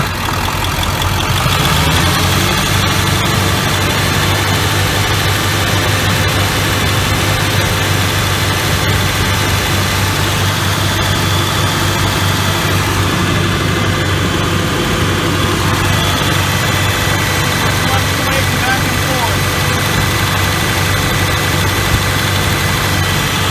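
A car engine runs at a fast idle of about 1500 rpm during alternator testing, giving a loud, steady, dense drone that holds constant for the whole stretch with no talking.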